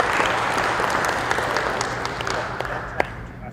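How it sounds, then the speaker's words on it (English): An audience at a matric awards ceremony gives a sustained round of applause for educators, dense clapping filling the hall evenly with a few sharper claps standing out. "please join me to give our educators a big round of applause for their work."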